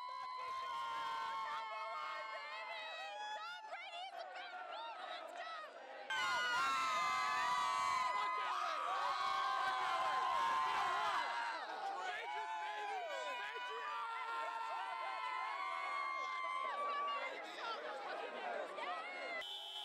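A large outdoor crowd at a 2019 Super Bowl victory celebration in downtown Boston cheers, screams and chants continuously, with a louder surge of whooping in the middle and overlapping voices and shouts throughout.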